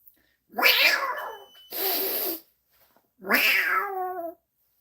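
A person's voice imitates a cat, producing three drawn-out, nasal meows separated by short pauses, close and clear with no other sound around them.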